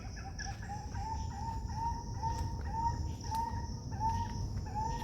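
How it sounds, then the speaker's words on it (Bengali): Birds call from the trees of a monsoon-season botanical garden in Howrah, with repeated short tonal phrases at a moderate distance over a steady hum of outdoor background noise. "গাছের ওপরে পাখি ডাকছে।"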